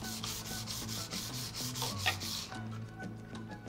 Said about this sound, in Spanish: lo más importante es lijar para sacarle ese brillito. Puede ser tanto con lijadora manual.